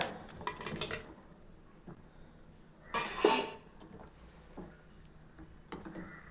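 Utensils clink against a pot as cooked carrot balls go into rava carrot kheer, with a few soft, close metallic taps and one brief louder clatter amid quiet kitchen background.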